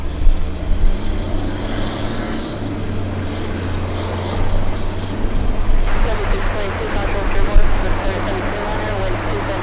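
A Delta Boeing 737-800 jet airliner at LAX roars loudly and close, a broad steady engine rumble that swells and shifts in tone partway through, with a voice talking over it.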